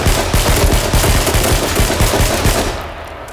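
Rapid automatic gunfire in the H1Z1 video game, a loud continuous burst of close shots that tails off at the end, with no talk.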